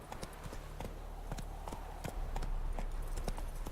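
Horse hooves clip-clop in a quick galloping rhythm in The Witcher 3 video game, the beats fairly faint and steady against a low background rumble.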